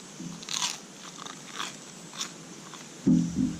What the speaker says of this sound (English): Ready for the crunch again?